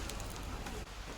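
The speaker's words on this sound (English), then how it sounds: "and it's raining right now." Rain patters faintly at an outdoor market, a soft, even wash of drops with a few light taps scattered through it.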